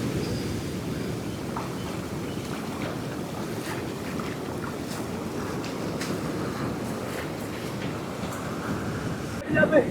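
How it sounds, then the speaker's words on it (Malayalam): Strong sea waves at Marari beach, a broad steady roar of surf washing in continuously with some wind buffeting, ending in a louder gust or splash near the end. "ഓക്കെ, തിര കൂടുതലാണ്. തിരക്ക് അത്യാവശ്യം പവറുണ്ട്."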